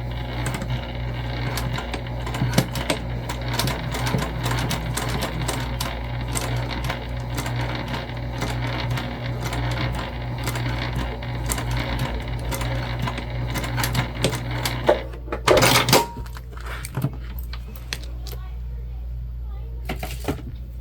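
A sewing machine stitches a strap onto a crossbody bag, running steadily with a fast, even mechanical whir for most of the stretch, then a brief louder clatter and handling noise near the end.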